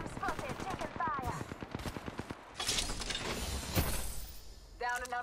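Rapid automatic gunfire bursts in a battle royale shooter played as Seer are followed by sharp impact and shield-break effects. Busy game sounds and some voice chatter run throughout.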